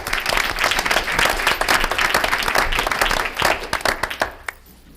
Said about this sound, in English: Let's give these people that we just gave recognition a round of applause.